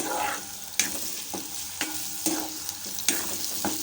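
Ground urad dal being sautéed in a pan over medium heat: a steady frying sizzle broken by repeated rhythmic spatula scrapes and taps roughly every half second, close and with no talk.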